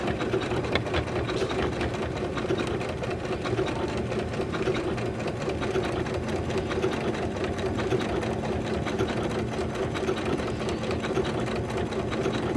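A Janome sewing machine runs at a raised speed while stitching bias-tape binding onto a quilt, giving a steady, even mechanical whir with a fast rhythmic clatter that holds constant and close throughout.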